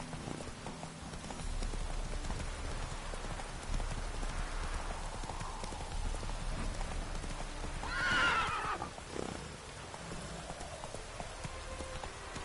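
Roach the horse trotting in The Witcher 3, rhythmic hoof clip-clops under a soft rain-like wash, with a short whinny around the middle, moderately distant and fairly quiet.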